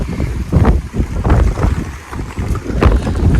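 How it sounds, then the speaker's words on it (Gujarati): Strong wind sweeps across a waterlogged village farm field, buffeting the microphone in loud, gusty rumbling bursts that rise and fall, with no voices. "અત્યારે છે ને પવન ઉપડી ગયો બહુ જાજો"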